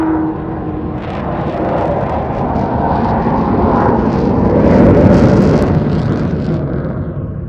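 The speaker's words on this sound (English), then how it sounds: "Well, as you see, not the quietest of aircraft, but certainly one of the most impressive" Avro Vulcan jet bomber flying past at a Scottish airshow, a huge continuous rumbling roar that swells to a peak and then rolls away, loud and dominating with no voices.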